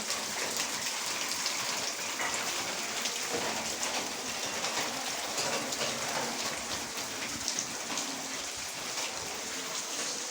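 Heavy rain pours down in a dense, unbroken hiss that stays loud and steady throughout, close to the listener with no voices over it.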